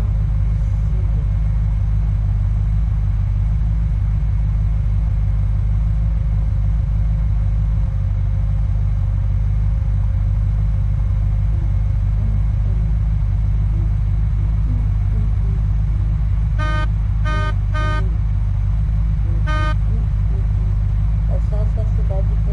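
Steady low engine rumble of a car driving in the game Unturned, loud and continuous for the whole stretch, with a few short sharp beeping bursts near the end.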